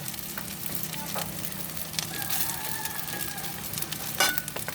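Hotdog pieces sizzle steadily in a pan as kalo-kalo is cooked at home, a continuous close crackle with occasional louder pops and spatters throughout.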